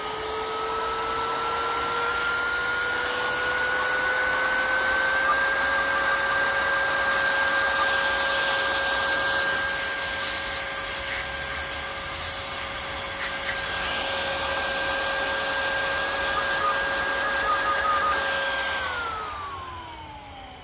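Handheld wireless rechargeable USB air duster blowing dust, a steady close whine that rises in pitch once, holds for most of the stretch, then winds down at the end, no talk.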